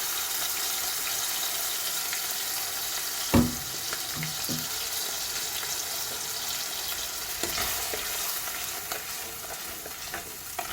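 Ground spice paste is poured into a pan for Hamour fish curry, bringing a steady background sizzle with a few soft clinks and splashes partway through.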